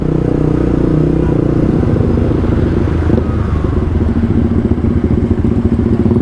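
A Yamaha R15 v2 motorcycle engine runs steadily after a tune-up, loud and close, with a rapid, even low-pitched pulsing and clatter throughout and no voices.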